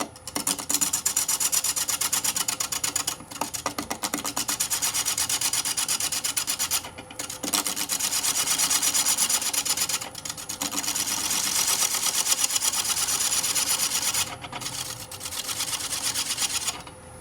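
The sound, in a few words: bowl gouge truing bottom of wooden urn on lathe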